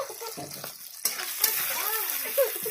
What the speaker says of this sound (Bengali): পেঁয়াজটা অল্প ফ্রাই হয়ে গেলে এবার তারপর দিয়ে দেবো চিংড়ি মাছটা।